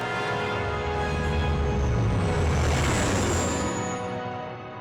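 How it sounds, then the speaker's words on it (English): Departing music from the game KOTOR, a sustained orchestral swell with rich held tones that builds and then fades near the end, playing alone without speech. "I do love the departing music in this game."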